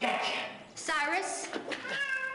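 A cat in the horror video game Phantasmagoria lets out several loud, wavering meows close up, interleaved with a voice speaking.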